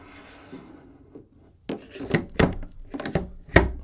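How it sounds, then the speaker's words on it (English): A battery snapping onto a Canon R6 Mark II video rig, heard up close as a few soft handling rubs followed by several firm plastic thunks and clicks, with no talking. "And then we can pop our battery on."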